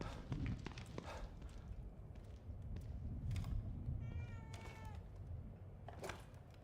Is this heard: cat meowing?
yes